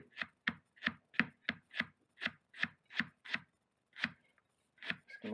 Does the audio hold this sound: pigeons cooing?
no